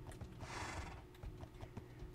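Horses in a Minecraft barn, with a clear whinny and hoof clip-clops in short bursts, moderately close over a soft background.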